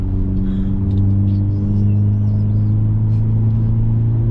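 A 2023 Hyundai Elantra N drives along Skyline Drive, heard from inside as a loud, steady engine and road drone with a constant low hum and no talking.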